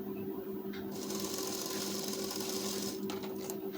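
Close up, a sewing machine runs a long basting stitch on a blouse, a steady rapid whirring hum with a brief pause near the start and a slight change in pitch toward the end.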